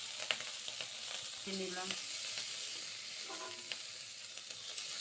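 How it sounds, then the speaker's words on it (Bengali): Shrimp frying in a pan for a mustard-and-poppy-seed bottle gourd leaf dish, a constant close sizzle and hiss with faint stirring scrapes and a brief spoken word over it. "চিংড়ি মাছটা একটু ভালো করে লাল লাল করে ভেজে নেব"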